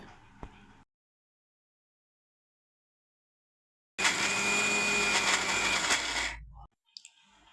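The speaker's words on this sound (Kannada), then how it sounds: "ನೆನೆಸಿದ ಉದ್ದಿನಬೇಳೆ ಜೊತೆ ಸ್ವಲ್ಪ ಕರಿಬೇವು, ಸ್ವಲ್ಪ ಕೊತ್ತಂಬರಿ ಸೊಪ್ಪು ಮತ್ತು ಮಿಕ್ಸರ್ಗೆ ಹಾಕ್ಕೊಳ್ಳಿ" A kitchen mixer grinds soaked urad dal with curry leaves and coriander leaves into idli batter, a steady loud whirring drone of about two and a half seconds after a silent stretch, ending abruptly, with faint clicks before and after.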